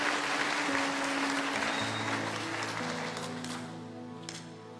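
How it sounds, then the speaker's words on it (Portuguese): A church congregation clapping during a morning service, a broad steady wash of applause from many hands that slowly fades, with sustained keyboard or organ notes playing underneath. "Vamos dar um forte aplauso."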